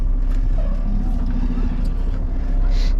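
A semi truck turning around in a freight yard after dropping an empty trailer gives a loud, steady low diesel rumble from inside the cab, with a voice heard faintly over it.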